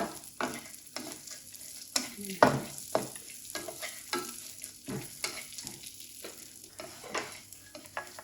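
Raisins frying briefly in a pan with the heat switched off, soft sizzling broken by repeated light scrapes and taps of stirring, close and fairly quiet.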